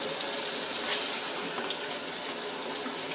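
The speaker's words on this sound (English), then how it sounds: "Give it a nice rinse here." Tap water runs steadily into a kitchen sink for a rinse, a continuous broadband splash and hiss filling the whole stretch with no talk over it.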